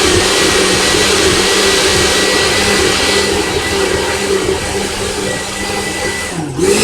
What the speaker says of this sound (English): And now it is time to blend.